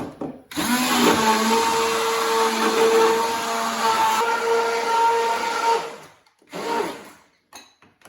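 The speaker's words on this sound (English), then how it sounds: "And here goes, whisk it" Kadhi mixture being whisked with a motorized whisk that whirs steadily for about five and a half seconds, stops, then gives a short second burst and a few brief blips; close and loud, with no voices.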